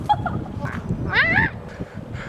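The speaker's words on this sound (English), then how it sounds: "You don't want to get too close to these geese. They will attack." Geese honk loudly nearby, one long rising-and-falling honk standing out among shorter calls and background noise.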